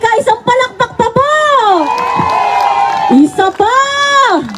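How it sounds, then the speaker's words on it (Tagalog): A crowd of Filipino supporters cheers, whoops and shouts at a rally for Vice President Sara Duterte in Melbourne, the loud sustained roar swelling over and between an amplified voice on the mic. "Maharlika, isang palakpak pa po!"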